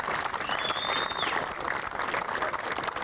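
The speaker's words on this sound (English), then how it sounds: "I want you all to give them a great round of applause for that wonderful exhibition" Applause from spectators at a one-wall handball national championship exhibition in 1993, a steady, fairly distant round of clapping filling the whole three seconds with a brief whistle-like tone early on.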